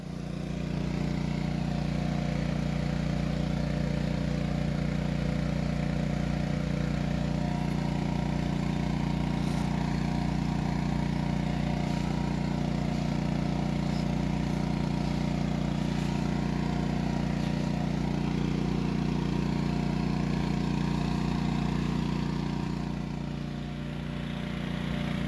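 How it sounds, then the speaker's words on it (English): A small engine-driven pump runs steadily and fairly close, churning a batch of bee feed being mixed in a tank, with a constant droning hum and no voices throughout. "I'll dump some of this in there and get the pump going."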